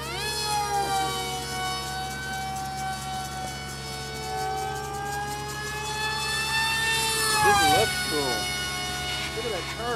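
An RC plane's 2600 kV electric motor on a 1000 mAh battery whines at throttle with a steady high tone that sweeps up and down in pitch, sounding close, while a voice talks underneath.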